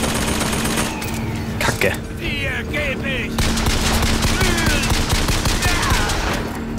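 Machine gun fire in BioShock Infinite rattles out in several loud bursts with short gaps between them, while someone talks and curses over the shooting.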